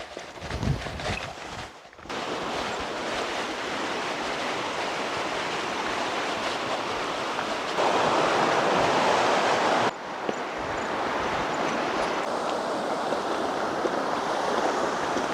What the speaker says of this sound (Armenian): Գետը ահավոր պղտոր է